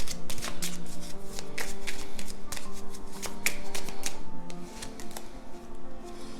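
Tarot cards are shuffled by hand at close range: a dense run of papery flicks and riffles, brisk and uneven, with no one speaking.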